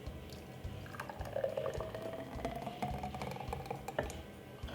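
Blended ice cream is poured into a blueberry and strawberry drink, a soft trickling stream with small clicks and taps from the glass, no voices heard.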